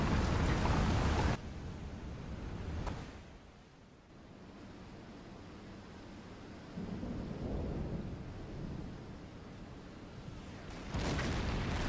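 Torpedo strike explosion in a submarine video game plays out in a heavy storm, a loud booming burst at the start giving way to steady rain and surf noise, with another swell of roaring noise near the end.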